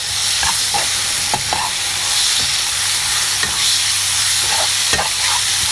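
Tomato and onion frying for Chettinad chicken gravy sizzle loudly and steadily in a pan, with a spoon scraping and stirring in repeated strokes up close; no one speaks.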